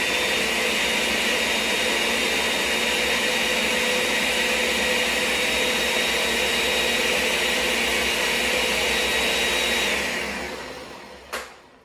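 A blender blends sofrito ingredients with a loud, steady motor whir for about ten seconds, then spins down and stops, followed by a short click.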